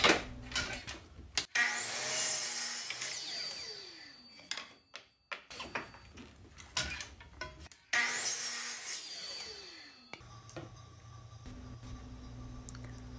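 Wooden top and bottom boards for a coffee dripper stand are cut with a power saw in two loud, close bursts of whining cutting, separated by quieter scraping and handling of wood.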